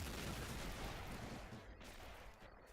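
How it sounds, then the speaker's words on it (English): Heavy German 88 gun firing during a World War II video game battle assault, a loud continuous barrage of booming shots and battle noise rumbling throughout without pause. "There you go, the 88 has started firing."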